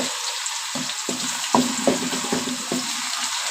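Onions frying in hot ghee in a pan, a steady close sizzle with a few sharp clicks and stirring knocks scattered through it.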